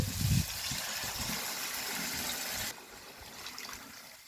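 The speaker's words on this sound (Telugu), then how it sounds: "కప్పు జొన్న రవ్వకి 3 కప్పులు వాటర్ పోసుకుందాము" Three cups of water pour into a pot for jowar rava kichidi, a full gushing splash for about two and a half seconds that then drops to a softer trickle and fades.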